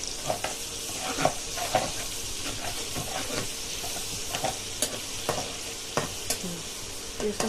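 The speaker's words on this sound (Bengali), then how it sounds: "হালকা একটু ভেজে নেব সফট না হওয়া পর্যন্ত একটু ভেজে নেব" Food frying gently in a pan, a steady close sizzle and hiss with intermittent clicks and scrapes from a stirring utensil throughout, no voices.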